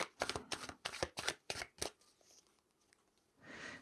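Tarot cards handled and riffle-shuffled up close, a quick run of seven crisp flapping riffles followed by softer shuffling and rustling of the deck, with no talking.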